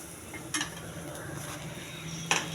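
Chopped onion and cumin sizzle quietly in hot oil during tempering for a leafy-greens dish, a soft steady fizz broken by two sharp clinks of a spoon against the pan.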